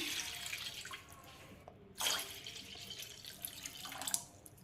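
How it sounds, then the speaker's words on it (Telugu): Quiet splashing and trickling as water is poured into a large bowl, with a couple of brief louder gushes. "ఇప్పుడు ఒక పెద్ద బౌల్ తీసుకొని దీనిలో వాటర్ పోస్తున్నాను"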